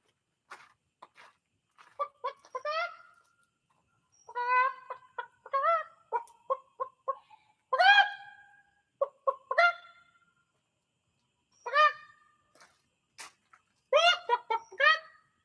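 Backyard chickens settling onto their roost make short clucks and soft squawks in scattered bursts against a quiet background, some calls close and loud, others brief and faint, with no talking.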